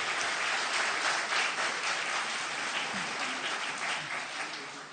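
A studio audience claps in a dense, sustained round of applause that swells briefly and then gradually fades, heard close and without voices over it.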